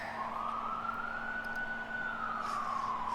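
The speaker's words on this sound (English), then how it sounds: "Yep, good old sirens." A wailing siren from a Blood Bowl video game match sweeps up and down in a long, steady tone, clear and continuous over low background hum, with no voices.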